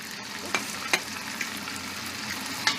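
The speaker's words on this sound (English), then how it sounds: "now we are ready to place in our onions" Onions tossed into a hot pot for a veal stew sizzle with a steady low hiss, broken by a few sharp crackles and pops, with no one talking.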